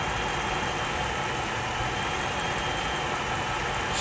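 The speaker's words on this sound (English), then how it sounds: "There's no sound comes from that engine." A Chrysler 300C with a 5.7 V8 Hemi runs quietly, heard as a steady, smooth engine hum with a faint background hiss and no talking.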